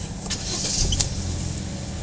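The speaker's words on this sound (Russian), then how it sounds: "теперь можно проводить пуск двигателя" A 1.4-litre petrol car engine is cranked and started off a Beatit G18 jump starter, giving a short whirring crank that catches into a steady low idle, heard close and alone.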